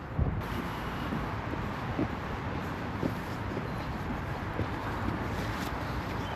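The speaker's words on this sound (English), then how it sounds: "It is actually a bit windy." Wind blows steadily outdoors on a walk through flooded meadows near Bishopthorpe, York, buffeting the microphone with a continuous broadband rush and a few soft gusty thumps.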